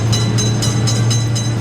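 Train rumbling past in a railroad crossing video game, a loud continuous low drone with faint rhythmic wheel clatter through a short stretch.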